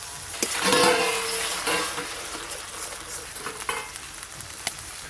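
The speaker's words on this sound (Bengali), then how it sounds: "আদা রসুন পেঁয়াজ তো ভাজা ভাজা হয়ে গেল" Ginger, garlic and onion fry in a pan for a doi katla fish curry, giving a loud, close sizzle with stirring scrapes that gradually settles into a softer, crackling fry.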